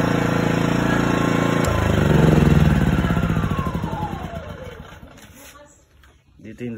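Greenfield 2000-watt gasoline inverter generator running steadily up close, then being switched off, its engine hum winding down and fading to near silence, with a person talking over it.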